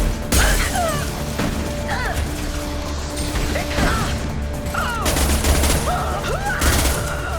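Heavy weapon high-impact shot fired in Mass Effect 2, dense cluttered gunfire and mechanical clanks with sharp bursts near the start and again around five to seven seconds, loud and continuous, no talk.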